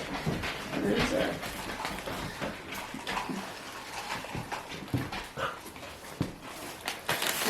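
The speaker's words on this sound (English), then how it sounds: "she hears the truck and she's got to bark" A dog barks in bursts at a passing truck, the barks coming near and fairly loud amid room noise, with some whimpering and talk heard around them.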